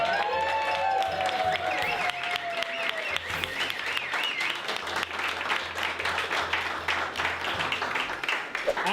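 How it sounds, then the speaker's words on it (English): An audience claps warmly for an organizing team at an evening event, a sustained round of applause with light crowd murmur and a brief voice near the start. "let's give them a little clap"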